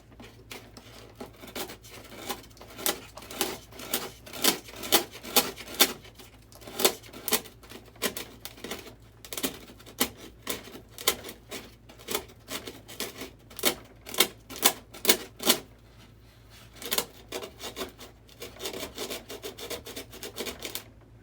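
Sanding on the ring burners of an SU-27 model jet, a close series of quick rasping strokes in steady bursts, some sharper than others, with brief pauses and no talk.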